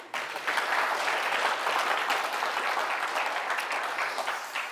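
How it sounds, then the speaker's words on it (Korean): Audience at a citizen speaker lecture bursting into applause, a dense, steady clapping that starts abruptly and fills the room, close and moderately loud, with no speech over it. "박수 한번 주세요."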